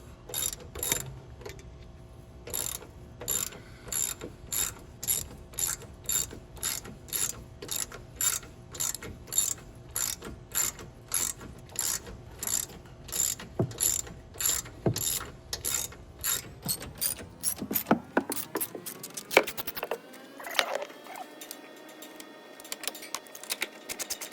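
A ratchet with a long 10 mm socket loosens bolts on the intercooler of a 7.3 Powerstroke F250, a close, rapid run of regular clicking strokes, then a faster burst of clicks as the bolt spins free near the end.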